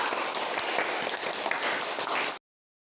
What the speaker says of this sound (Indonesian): Tepuk tangan untuk Novika.